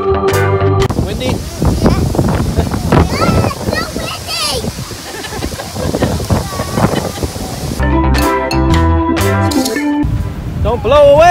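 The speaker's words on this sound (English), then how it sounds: "The wind was wicked, my friends." Strong wind at a lakeside resort buffets the microphone in loud, gusty roars. People shout and talk over the blustering.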